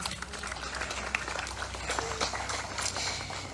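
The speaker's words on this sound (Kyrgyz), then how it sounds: "Кол чаап койсоңуздар." An audience at an outdoor ceremony for laying a time capsule at an innovation centre's construction site claps in a steady, moderately distant patter, fairly quiet and continuous with a little background murmur.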